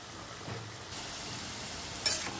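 Bitter gourd (karela) fries crisp in a pan with a soft, steady sizzle and a brief stirring scrape near the end, fairly quiet and without talking.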